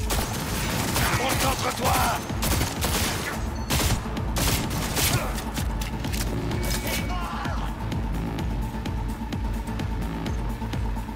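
An enemy firing at the player in the video game Cyberpunk 2077, with dense bursts of rapid gunfire over a constant loud background of game sound, while a voice talks briefly.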